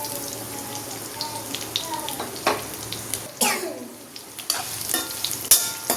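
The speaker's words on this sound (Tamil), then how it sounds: "ஓரளவு நல்லா வதங்க விட்டுக்கலாம்." Onions sautéing in a pan for Chettinad egg curry, giving a steady sizzle with scraping stirs and intermittent clinks of the spatula against the pan, no talking.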